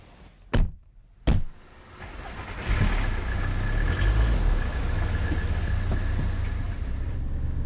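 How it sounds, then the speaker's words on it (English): Car cruising on the A505 road near Duxford, heard from the back seat: two sharp thumps early on, then a steady, loud rumble of engine and road noise that builds and holds, with no talking. "we're on the A505 near Duxford, and Dave's driving his car"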